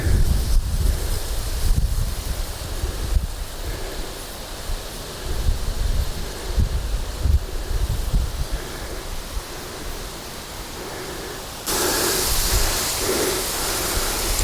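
Steady wind buffeting a microphone outdoors near a shore where ducks gather, a continuous low rumble with gusts, close and fairly loud throughout with no voices.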